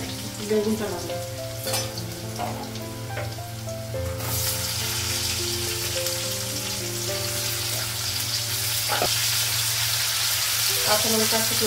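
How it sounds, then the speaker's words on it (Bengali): Potatoes and onions fry in oil tempered with panch phoron in a home kitchen, giving a steady close sizzle throughout with a few soft clatters of utensils and background music-like tones. "আলুটা পেঁয়াজটা ভাজা হয়ে গেছে, বেগুনটা লাগাবো।"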